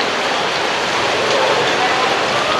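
Steady heavy rain pours down without a break in a Saigon alley beside an old apartment block in District 1, a dense, loud hiss close by.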